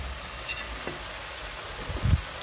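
Mackerel goes into a pan of frying spices, and a soft, steady sizzle follows with a brief louder burst of stirring near the end. No one speaks.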